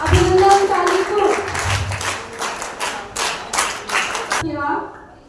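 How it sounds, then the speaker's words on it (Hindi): Children at a school prize ceremony clap in applause, a dense burst of rhythmic hand claps in regular pulses that stops abruptly, with a voice speaking over the start and returning after it ends. "अभिनंदन ताली को"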